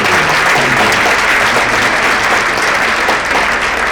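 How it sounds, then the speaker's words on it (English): Loud, sustained applause from an audience at an awards ceremony, a thick wash of many hands clapping steadily and close, with no break. "One more time, and we can have some applause."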